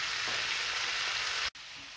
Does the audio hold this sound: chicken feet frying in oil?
yes